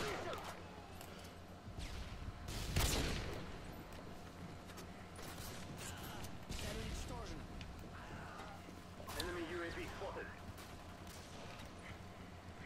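Gunfire in the Call of Duty video game, a few sharp shots and bursts over a constant game background with a loud crack near the start.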